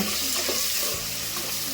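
Capsicum and fresh green peas sauté in hot tempering oil for capsicum rice, giving a close, steady sizzling hiss with no one talking.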